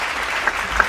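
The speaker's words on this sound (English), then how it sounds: "please, round of applause once again" Audience applause at an awards ceremony honouring a Lifetime Achievement Award recipient: a short, steady burst of crowd clapping with a couple of sharper claps standing out, heard alone.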